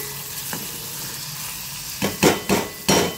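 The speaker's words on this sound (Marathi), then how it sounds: "सध्या आपण कांदा घेतलेला आहे भाजायला." Chopped onion lightly frying in a pan for a potato and aubrergine curry, a steady low sizzle followed by four distinct scraping stirs near the end, close and fairly loud.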